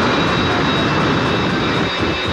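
A jet-powered truck fitted with an F7U jet engine roars loud and close at a thrill show, a steady broadband blast with no letup and no talk.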